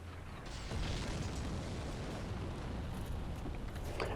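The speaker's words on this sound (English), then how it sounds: "So there's that giant throwing the fire bombs." Fire bombs thrown by a giant burst in Dark Souls Remastered, heard as steady low rumbling explosions that run continuously at moderate level with no talk.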